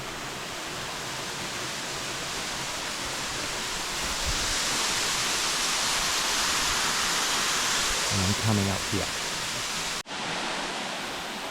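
Steady broadband roar of a jungle waterfall in Tahiti, continuous and fairly loud, with a brief voice speaking over the rushing water near the end.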